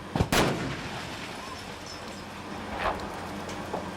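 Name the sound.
explosion of a miniature set for a film shoot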